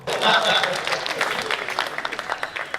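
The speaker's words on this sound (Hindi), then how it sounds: "हंसी निकले तो ताली भी होनी चाहिए दोस्तों।" An audience at a Hindi comedy poetry gathering breaks into applause, a loud dense wave of clapping that thins into scattered individual claps before fading.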